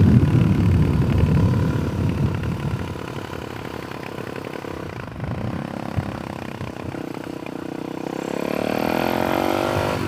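A Suzuki DRZ 470 SM supermoto motorcycle laps a kart track, its single-cylinder engine droning loud and close, dipping briefly as the throttle eases before climbing again in pitch near the end.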